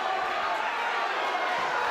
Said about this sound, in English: You can hear the crowd response.